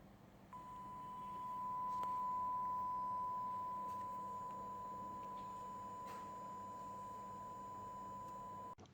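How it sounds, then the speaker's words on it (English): A steady 1 kHz sine beep tone comes from the audio codec output of an STM32F4 Discovery development board. It holds constantly for about eight seconds over faint background hiss, with no talking. "As you heard, we got a 1 kilohertz beep"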